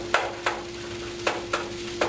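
Fried rice with butter and vegetables being stirred in a hot pan: five sharp scrapes and knocks at an uneven pace over a soft, steady frying hiss.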